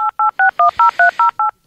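Eight quick telephone keypad tones sound in a steady, evenly spaced rhythm as a phone number is dialed, loud and clear with no talking.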